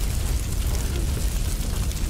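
A deep, continuous booming rumble from an explosion in Far Cry 6, loud and sustained with no voices over it.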